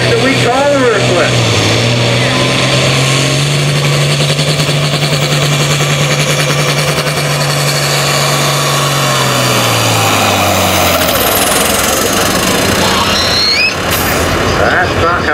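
An International 1466 tractor called Ruthless, running on six cylinders at a truck and tractor pull, gives a loud continuous engine drone. The pitch holds steady, then drops away near the end, with other noise from the event around it.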